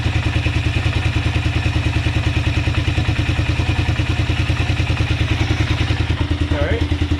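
A 1988 Suzuki QuadRunner LT 300 ATV engine, running without its air filter, chugs loudly in a fast, even rhythm close by with a rough, throaty idle and no pauses.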